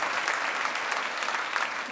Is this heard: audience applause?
yes